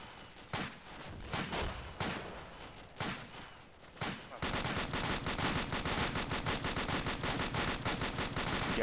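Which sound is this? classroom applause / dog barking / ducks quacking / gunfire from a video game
gunfire from a video game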